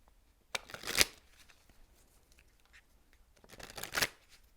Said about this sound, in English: So I'm going to pull a card from that deck for you too.